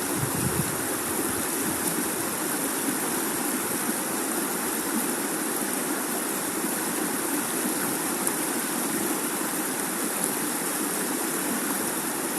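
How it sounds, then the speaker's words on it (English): Vacuum pump drawing a water sample through an eDNA filter housing, a steady, even hiss and whir that runs unbroken throughout, with no talk. "I'll slowly pour the water sample into the filter housing and draw it through the filter"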